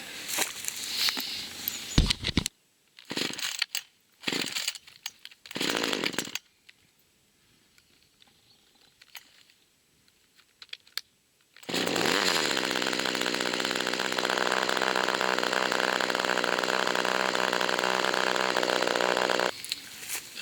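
A new chainsaw is pulled over several times in bursts, then catches and starts, settling into a loud, steady idle that runs alone for about eight seconds before cutting off.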